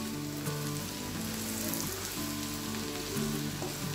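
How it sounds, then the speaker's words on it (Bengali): Chopped onion and garlic fry in oil for a beef kala bhuna, a dark, slow-cooked curry, giving a steady, even sizzle with a faint tonal hum in the background. "পেঁয়াজটাকে আমি ভালো করে বেরেস্তা করে নিব"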